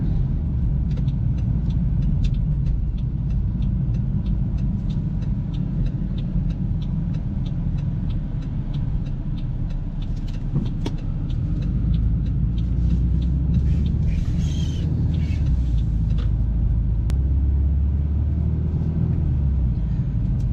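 Car driving through town in Sackville, Nova Scotia during a road test, heard from inside as a steady low road rumble and engine drone with faint ticking, continuous and close without talk.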